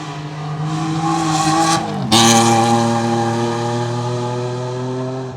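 A rally car with a loud open-exhaust H6 engine howls past on a forest stage, a sustained raspy engine note that shifts pitch abruptly mid-pass, then fades slowly as it pulls away.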